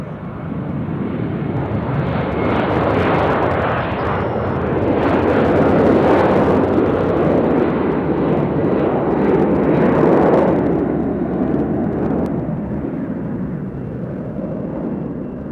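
A departing Alaska Airlines airliner at Nashville International Airport roars steadily and loudly for the whole stretch, a broad, rumbling jet engine noise that swells slightly in the middle and eases toward the end, with no talk.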